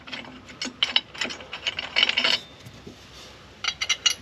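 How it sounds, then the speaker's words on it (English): A ratchet wrench loosens a bottom bolt during a Rodney Dickman power pulley and idler install on a Pontiac Fiero, giving close, rapid bursts of metallic clicking with brief pauses, then another quick run of clicks at the end. "I'm going to take this bottom bolt back out"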